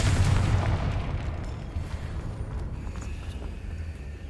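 The Confringo blasting spell detonates in the video game Hogwarts Legacy: a loud, booming explosion at the start that rumbles and decays over several seconds into a softer crackling tail.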